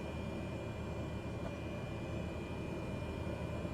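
Simulated Cessna 208 turboprop taxiing onto the runway in Microsoft Flight Simulator, a faint steady engine hum and whine held evenly throughout with no talking.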